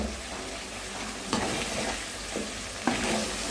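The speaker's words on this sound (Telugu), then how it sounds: "ఇది కలుపుకుంటూ ఉండాలండి, లేదంటే అడుగంటేస్తుంది అనమాట." Chicken liver fries in a pan with ginger-garlic paste, a steady close sizzle running throughout, while a spoon stirs and scrapes the pan bottom with a couple of sharper clinks.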